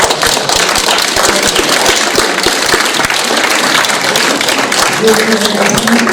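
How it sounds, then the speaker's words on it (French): Loud, sustained applause from an audience at a French debate event honouring Madame Joseph, many hands clapping densely and continuously, with a voice faintly heard toward the end. "vous serez tous d'accord pour applaudir Madame Joseph"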